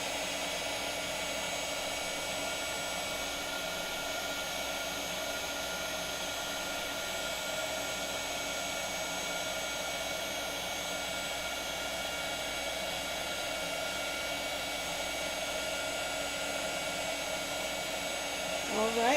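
A heat tool melts embossing powder on paper, a steady loud blowing roar continuing unbroken throughout.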